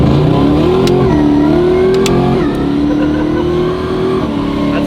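A 1300HP 2JZ-swapped Polaris RZR launches hard from a dig. Its engine roars loud and close, climbing in pitch with brief dips at each gear change and no talking.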